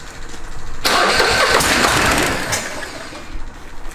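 A giant Chinese diesel V-twin engine bolted on a table cranks and suddenly fires up, loud rough clattering running that shakes the table, then settles to a steadier idle after a couple of seconds.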